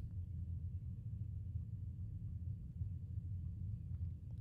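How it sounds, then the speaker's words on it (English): Thunder rolling in during a storm over Springfield in southern Missouri: a low, continuous rumble, fairly faint and sustained, with no voices over it. "There's thunder rolling in."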